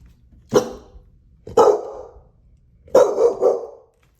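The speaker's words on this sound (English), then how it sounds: "his pet dog begins barking very loudly at something in the house" A pet dog named Jackson, inside a house, barks loudly and angrily: three sharp, close barks spaced about a second apart, the last one breaking into a rough double bark with a growling edge, and quiet between them.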